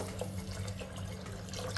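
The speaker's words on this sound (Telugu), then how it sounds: "చింతపండు టమాటా రసం తీసుకొని పక్కన పెట్టాం కదండి ఇప్పుడు అవి పోసుకోవాలి" Tamarind and tomato juice is poured into a cooking pot for pepper rasam, a soft, steady liquid trickle and splash heard close up and fairly quiet throughout.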